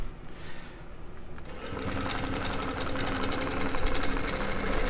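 A domestic sewing machine stitches steadily during ruler-guided machine quilting with a wave-shaped quilting ruler, a continuous close mechanical whir with rapid needle rhythm that starts after a brief pause and runs on at an even, fairly loud level.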